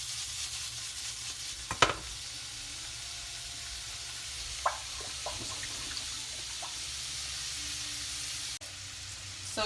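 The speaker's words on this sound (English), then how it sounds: "So I'm gonna cook it just enough now to cook the prosciutto on both sides." Jumbo shrimp wrapped in prosciutto sizzle in butter and garlic in a pan, a steady soft frying hiss broken by a few sharp clinks and scrapes of utensils.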